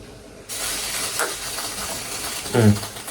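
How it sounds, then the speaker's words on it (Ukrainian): Water hisses and bubbles as it heats toward a boil, a steady close steamy rush with a louder burble near the end. "вже закипає вода"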